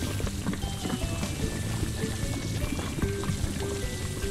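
Continuous water jet spraying in a Paw Patrol video game, a steady hissing pour with game music in the background, no talking.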